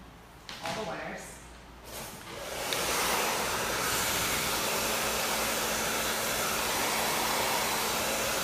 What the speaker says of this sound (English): And then we're gonna hit the hair dryer here.